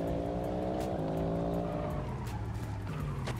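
Roblox Vehicle Simulator race car engine revving steadily with a rising, shifting whine, joined by loud tire squeal and skidding throughout, close and continuous with no talk.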